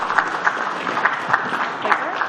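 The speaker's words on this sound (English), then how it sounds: "let's give a big round of applause for Alexander" An audience at a technical talk on AI and formal verification claps for the speaker, a rapid hum of hands with faint overlapping voices, short and moderately loud.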